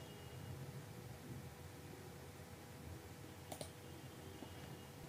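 Computer mouse clicks sound faintly over quiet room noise while a spreadsheet is edited, with a couple of short sharp clicks in the latter half.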